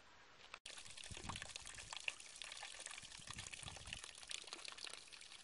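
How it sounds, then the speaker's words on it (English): Water falling and pouring steadily in rural northern Portugal, a continuous close rushing splash with a brief dropout near the start, alone with no voices. "Water falling"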